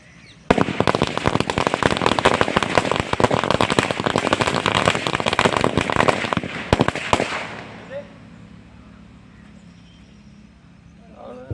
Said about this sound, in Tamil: அதுக்கப்புறம்தான் பட்டாசு வச்சோம்